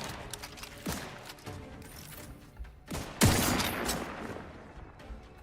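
Gunfire in the video game Outer Worlds 2: a few sharp, loud shots spaced out, then a heavier burst with a lingering tail, close and punchy, no talking over it.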